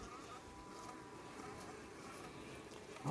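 Imported honeybees hum steadily around an opened hive, a faint continuous buzz of many insects with no voices.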